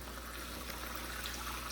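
Dishes being scrubbed under running water at home, a steady trickling and splashing wash that stays fairly soft and continuous throughout, with no voices.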